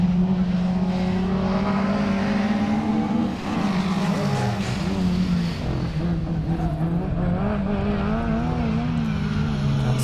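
Rallycross race car at Pembrey accelerating hard along the speedway straight, a loud close engine note rising and falling through gear changes with some tire noise.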